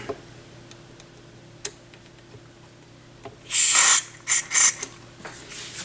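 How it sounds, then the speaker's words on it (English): A can of WD-40 contact cleaner hisses in several short, close bursts onto the control knobs of a Technics SL 220 turntable, preceded by a few faint clicks and taps. "I think I may have finally used this can of WD-40 cleaner"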